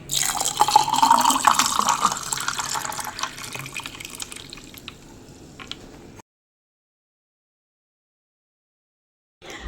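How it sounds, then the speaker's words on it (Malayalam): Lemon juice poured into water for a Kerala-style lemonade, a close, steady liquid trickle and splash for about six seconds before the sound cuts to silence. "നാരങ്ങ ഒഴിച്ചു കൊടുക്കാം"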